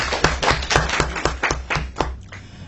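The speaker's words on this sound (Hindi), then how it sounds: "गुड सर के लिए एक बार तालियां बजाइए।" An audience claps in quick, steady unison at a business presentation on a water-products network industry. The claps come at roughly four per second, loud and close, with no talking over them.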